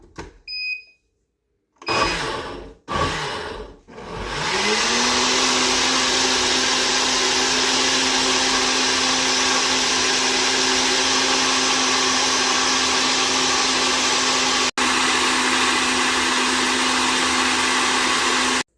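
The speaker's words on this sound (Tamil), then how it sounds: "இப்போ இந்த பாலையும் ப்ளூபெர்ரிஸையும் நாம் நல்லா பிளெண்ட் பண்ணிடலாம்." A blender whirs steadily, blending two cups of milk with blueberries for pancake batter; after a few brief starts it runs loud and continuous with a steady motor hum, pausing only for a moment near the end.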